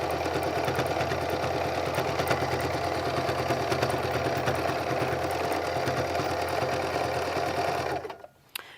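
A sewing machine stitches fabric in one continuous, fast, steady whirring run lasting about eight seconds, close and clear with no talking, then stops abruptly with a small click.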